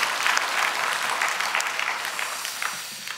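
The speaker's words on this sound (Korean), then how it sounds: "우리 다시 한번 영광의 박수 올려드립시다" A church congregation at a Sunday afternoon worship service applauds, sustained dense clapping from many hands filling the room, steady and fairly loud, with no speech over it.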